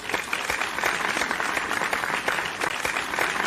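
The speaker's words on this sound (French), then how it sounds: "entourée d'une petite foule qui l'acclame bruyamment" A small crowd cheers and applauds loudly around a woman in an animated scene. Dense, continuous clapping mixes with excited voices at a fairly close, even level from start to finish.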